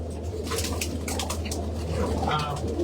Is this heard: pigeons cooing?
yes